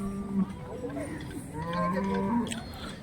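Several Holstein Friesian cattle low and moo in overlapping, drawn-out calls at moderate distance at a cattle market, with a busy crowd murmuring in the background.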